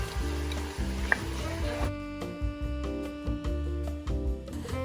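Sliced vegetables and sausage sizzle and fry steadily in a pan, with scraping stir strokes and light clinks repeating in a loose rhythm, close and moderately loud.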